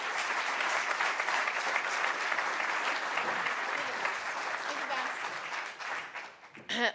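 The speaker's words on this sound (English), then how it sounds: "Let me give a round of applause to our great Senator Kirsten Gillibrand." Sustained audience applause for Senator Kirsten Gillibrand at a New York political event, a dense, steady wash of many hands clapping that holds evenly for several seconds before thinning out near the end.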